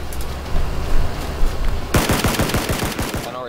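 Gunfire in the video game PlayerUnknown's Battlegrounds, starting with scattered shots and then a loud rapid automatic burst of evenly spaced reports partway through, close and sharp with no talk over it.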